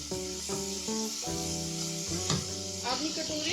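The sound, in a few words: cumin and ginger garlic paste sizzling in oil in a kadai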